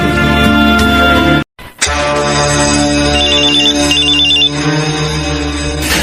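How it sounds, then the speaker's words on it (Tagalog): A cellphone ringtone from an incoming call chimes loudly in a repeating electronic melody over steady music, with a brief dropout early on, then keeps ringing. "Ay, may tumatawag sa cellphone ko."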